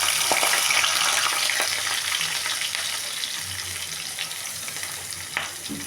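Onions and green chillies frying in hot oil in a home kitchen, a steady crackling sizzle close by, loudest at first and then settling into an even hiss with a few stirring clinks.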